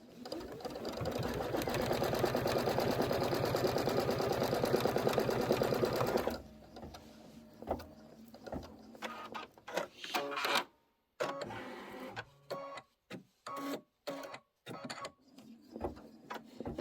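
A quilting sewing machine stitches the inner borders and flange of a Kimberbell Sweet Land of Liberty pillow quilt, running in a steady loud whir for about six seconds, then stopping and starting in short bursts with clicks and pauses.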